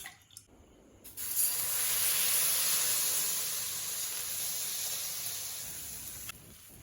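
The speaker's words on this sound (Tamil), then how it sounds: "இப்போ 2வது தோசையும் ஊற்றிப்போம்" Rava dosa batter hitting a hot pan as it is poured, a broad steady sizzle that swells suddenly, holds for several seconds, and then eases off, close up in a home kitchen.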